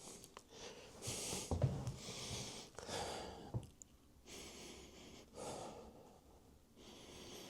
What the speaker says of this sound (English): Let's go give it a little sniff test.